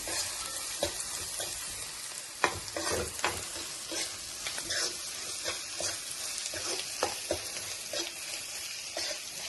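Masala frying for an egg curry, a low steady sizzle with frequent scraping and tapping of a spoon stirring the pan, quiet and close with no speech over it.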